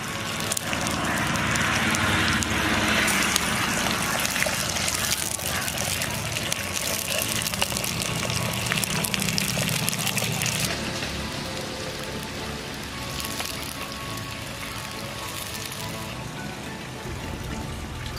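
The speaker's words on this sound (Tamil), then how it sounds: "தூதுவாளையை அலசி எடுத்துக்கலாம்." Thuthuvalai leaves rinsed in water for a clay-pot chutney, a steady splashing and swishing wash that runs loud and continuous, easing slightly in the second half.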